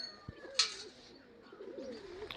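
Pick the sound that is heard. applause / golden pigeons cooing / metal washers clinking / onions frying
golden pigeons cooing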